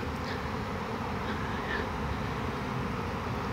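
Honeybee prime swarm being shaken into a large skep, a dense, steady buzzing drone of many bees filling the air continuously and fairly close, with no voices.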